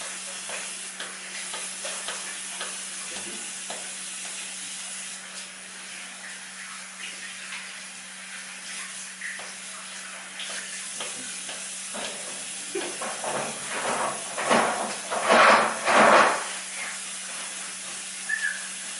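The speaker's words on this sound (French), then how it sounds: "on va se laver les mains avec de l'eau et du savon." Running water from a tap as hands are washed with soap, a steady close hiss with rising splashes and rubbing toward the end, no talking.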